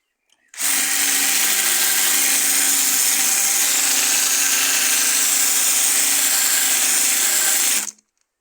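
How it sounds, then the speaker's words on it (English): A power sander with a sanding bit grinds steadily against a wooden bird table, starting abruptly and holding a loud, even whine for about seven seconds before cutting off cleanly. "I'm going to try some different sanding bits."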